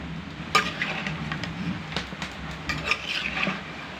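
Peshawari beef dry roasting in a pan with black pepper, ghee and salt makes a low sizzle, and a utensil scrapes and clinks against the pan several times, close up, without speech.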